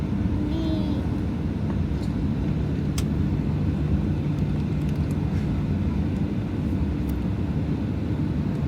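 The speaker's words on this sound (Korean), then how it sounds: "비행기 이제 출발한다." Airplane departing on a flight to Fukuoka, a steady loud engine rumble heard from inside the cabin throughout, with a child's brief vocal sounds near the start.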